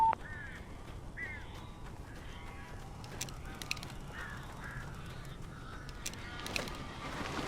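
Crows cawing in the Alan Wake Remastered video game, several short harsh calls scattered at a distance over a low, murky ambient rumble.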